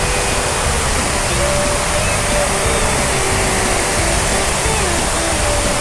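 A rain-like water feature on the boardwalk in Naga, Cebu, makes a steady, loud, unbroken rush of falling and splashing water from start to finish.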